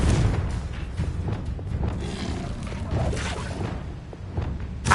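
A Confringo blasting spell explodes in the video game Hogwarts Legacy, a heavy booming blast with rumbling whooshes that swell and fade over a few seconds, loud and close, no voices.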